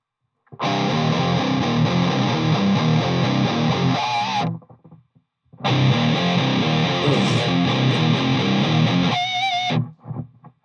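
A loud electric guitar with fuzzy, buzzing distortion through a NUX Solid Studio plays chords for several seconds, pauses briefly, then continues before cutting off.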